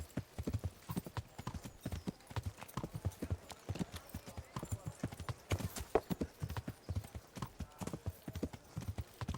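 Horse hooves clip-clop in steady rhythmic steps in the video game Kingdom Come: Deliverance, close and continuous, with a voice speaking over them.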